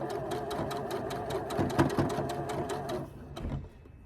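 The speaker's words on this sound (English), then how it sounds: "Stitch it in place for a second and then hit go and start stitching all the way down this line." A sewing machine runs in a fast, even stitching rhythm while sewing a strip of lace onto a shirt, loud and close, then slows and stops near the end with a faint clunk.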